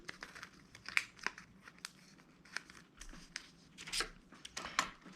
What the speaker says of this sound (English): I'm actually going to use scissors to cut this off